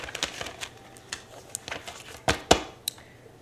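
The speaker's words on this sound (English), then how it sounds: "Let's give it one more shuffle" A deck of tarot cards is shuffled by hand in a string of quick, crisp flicks and slaps, irregularly spaced, with a couple of sharper snaps toward the end.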